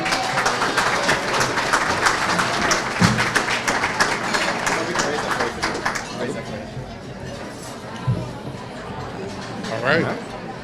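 A gala audience at a black-tie benefit claps through the first half, dense and steady, then fades into murmuring room chatter with a few thumps and a voice at the end.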